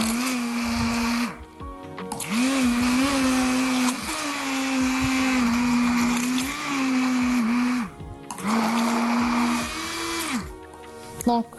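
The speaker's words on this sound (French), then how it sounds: "Je prends mon mixeur plongeant" An immersion blender mixes food, giving a loud steady motor whine that lasts several seconds, cuts out twice for short pauses, then starts up again with small dips in pitch as it works through the mixture.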